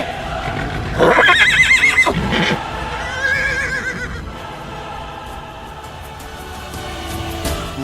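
A horse, standing in for a white horse, neighs in a loud, close, shrill whinny that wavers and fades, followed by a softer second call and low background noise.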